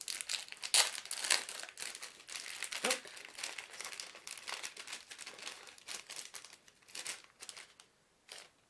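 Packaging of an exfoliating face sponge being opened by hand, irregular close crinkling and crumpling of plastic wrap with a few tearing bursts, fading to quieter rustles.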